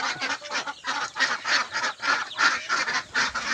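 A flock of farm ducks (itik) quacks noisily and continuously close by, a dense overlapping chorus of rapid calls with no talking.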